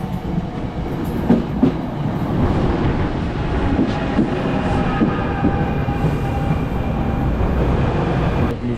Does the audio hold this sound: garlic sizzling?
no